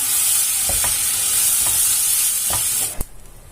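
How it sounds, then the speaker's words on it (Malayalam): Rice for roasted rice powder fries in a hot pan with a bright close sizzle and periodic stirring scrapes, ending in a sharp knock before the sizzle drops away. "അതിലോട്ട് നമ്മൾ ഈ എടുത്തു വെച്ചിരിക്കുന്ന റൈസ് ഇട്ട് കൊടുക്കാം. ഇത് നല്ലോണം ഫ്രൈ ചെയ്യാം."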